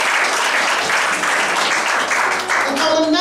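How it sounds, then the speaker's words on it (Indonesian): A church congregation applauds for Jesus with loud, dense, steady clapping filling the room, joined near the end by a voice speaking over it. "Yang percaya tepuk tangan buat Yesus sama-sama"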